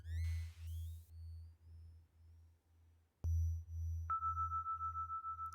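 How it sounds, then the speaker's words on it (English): Digital sine-wave tones from a Nord Micro Modular synthesizer with reduced sample rate, a pulsing low bass throb repeating steadily under high stepped chirps, then a sustained pure high tone joining the rhythm. "reduced sample rate just at the top of the sine wave is for me a typical microsound sound, a digital sound"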